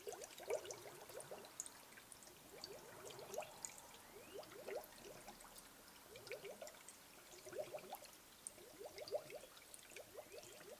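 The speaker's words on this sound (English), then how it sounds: "Water is running right on down." Water draining steadily through a no-spill coolant funnel, a continuous soft trickle with small gurgling pulses, faint and close, without voices.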